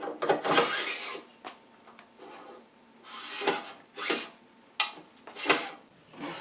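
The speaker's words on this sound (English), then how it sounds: "There's actually 12 of those to sand." Facets being sanded on an Accu Facet System jig, with close, scratchy rasping strokes in irregular bursts separated by short quiet pauses, and no talking.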